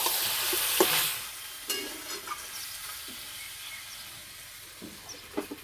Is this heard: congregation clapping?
no